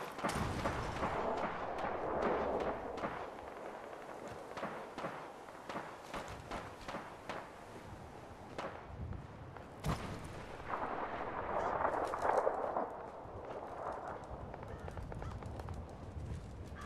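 Scattered gunshots and crackling impacts in Fallout 4, some sharp reports and a louder burst partway through, heard at a moderate distance over a noisy outdoor ambience with no voices.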